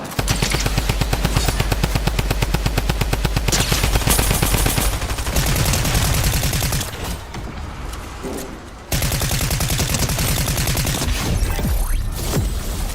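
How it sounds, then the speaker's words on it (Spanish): Rapid automatic gunfire from a Fortnite match, loud and close, with fast rhythmic bursts, brief pauses, then more sustained shooting and heavy firing layered together. "Disparando ese tipo."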